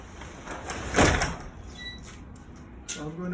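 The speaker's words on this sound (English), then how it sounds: "And I'm going to lower the door by hand." A heavy residential garage door with rollers slipping off its tracks, lowered by hand: a brief rumbling slide and clunk, faint squeaks, then a softer rattle near the end against a quiet garage background.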